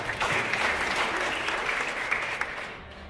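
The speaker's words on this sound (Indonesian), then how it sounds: "Tepuk tangan buat Tuhan." Audience applause at a church-linked supervisory board inauguration ceremony, a dense, steady clatter of many hands clapping that fades slightly toward the end, with no speech over it.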